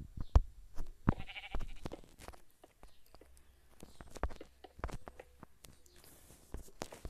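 Sheep in a Minecraft-style video game bleat several times amid scattered soft clicks and footstep-like patter, quiet and intermittent with no talk.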